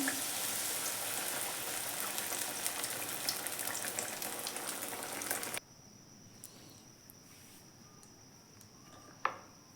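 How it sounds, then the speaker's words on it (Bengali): Flour-dipped snack pieces sizzle loudly in hot oil, a dense crackling hiss for about five seconds that cuts abruptly to near quiet with a faint tone and a single small knock. "এর মধ্যে আমি তেলের মধ্যে ছেড়ে দিচ্ছি"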